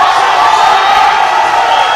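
A loud, dense roar of cheering and whooping fills a powerlifting competition arena, continuous and undifferentiated with no pauses.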